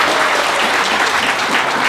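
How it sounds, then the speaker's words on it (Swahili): Dense, loud crowd applause at a political rally in Kenya, steady clapping filling the whole moment with no pauses. "simpigie makofi."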